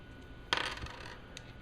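Metal parts of a Harbor Freight toggle clamp handled as a nut comes off, a faint, brief cluster of light metallic clinks, then a soft tick a moment later.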